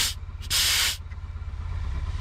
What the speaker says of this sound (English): I'm going to fire up the air compressor and see what happens.